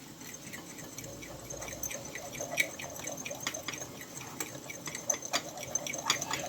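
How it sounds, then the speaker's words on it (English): Separated egg whites are whisked in a bowl, a soft fast ticking and clicking that sounds faint and wet and runs continuously throughout. "we're going to give that a good whisk"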